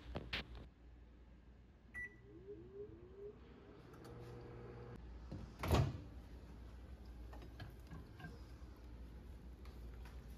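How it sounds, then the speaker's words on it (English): A microwave oven heating nachos hums faintly after a door clunk and a few soft beeps, with a sharper knock midway and a low steady drone continuing quietly to the end. "throw it in the microwave and let it run for 30 seconds"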